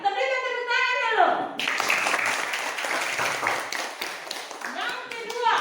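Classroom of students claps for a classmate who answered, a burst of many small hands starting after a teacher's voice, continuing for several seconds before talk resumes over the fading clapping.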